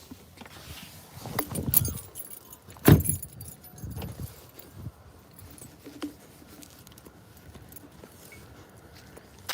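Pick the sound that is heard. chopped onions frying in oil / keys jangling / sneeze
keys jangling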